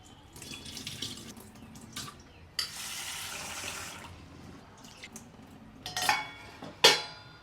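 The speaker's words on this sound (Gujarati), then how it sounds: "થોડુંક આમ વ્યવસ્થિત ઘસી પાણી ચોખ્ખું થાય ને ત્યાં લગી ધોવાનું છે." Lentils (dal) are rubbed and rinsed in water at a kitchen sink: a running tap, intermittent splashing bursts and drips, and a few sharp clinks of the vessel, close and with no talking.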